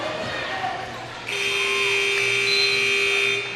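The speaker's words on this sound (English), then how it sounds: "I heard the other buzzer." A steady electronic buzzer sounds at a high school basketball game between Tualatin and Jefferson, holding for about two seconds over crowd and gym noise.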